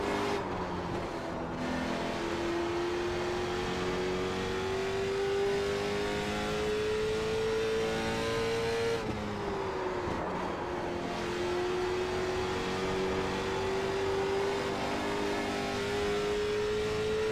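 A race car in iRacing laps the paved oval at Kern County Raceway Park, its engine droning steadily at high revs with a rising pitch, a brief lift and downshift about halfway, then building again, loud and alone.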